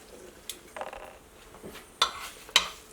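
Metal spoon scraping and clanking against the crock of a slow cooker while stirring cooked ground beef, with a few soft scrapes followed by two sharper clinks near the end, close and fairly quiet, no talking.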